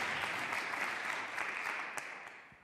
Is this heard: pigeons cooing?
no